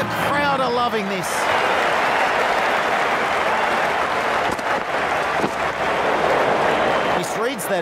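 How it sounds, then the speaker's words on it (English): A stadium crowd at a Bangladesh versus Sri Lanka Cricket World Cup match cheers and applauds in a loud, steady roar throughout, with whistles and voices mixed into the din. "The crowd are loving this."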